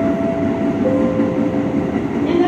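A commuter train arriving at Buara station gives a loud, steady rumble of wheels and carriage noise with a faint tonal whine running through it, and no voices.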